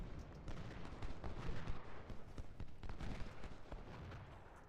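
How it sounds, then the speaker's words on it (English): Enemy artillery pounding in the Civil War strategy game Ultimate General: Civil War: repeated distant booms and cracks layered into a faint, continuous battlefield rumble. "getting hit hard by enemy artillery"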